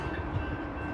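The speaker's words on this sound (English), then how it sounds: "And there it is, the train is almost here." Calgary Transit light-rail train approaching a station platform, a dense steady rumble of wheels and motors filling the short moment, loud and close with no talking.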